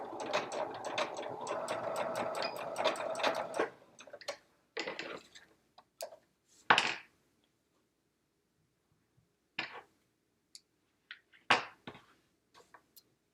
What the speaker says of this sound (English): you're going to sew along this outer curve here at 1/4 of an inch